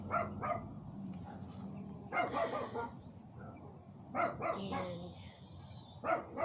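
A dog barks in several short bursts at a moderate distance, and people talk in the background.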